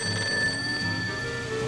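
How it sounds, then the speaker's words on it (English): An old stage telephone on a film set ringing in a steady electric bell trill, fairly faint, with a faint background hum and no speech. "a stage phone rings"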